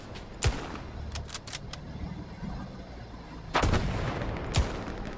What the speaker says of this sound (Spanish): Ha caído una bomba al lado.